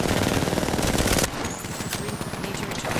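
Rapid energy weapon fire from the Apex Legends video game rattles out in a dense, loud continuous burst, then carries on slightly softer with continued shots.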